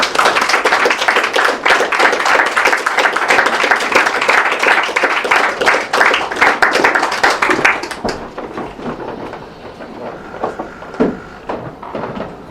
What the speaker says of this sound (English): So I can have a huge round of applause, please, for Tim Heath.